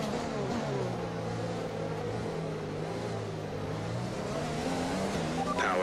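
Race car engine from the F1 2020 video game at the Japan race, a steady sustained drone with layered harmonic tones shifting slightly in pitch, loud and continuous throughout, ending with a brief high squeal.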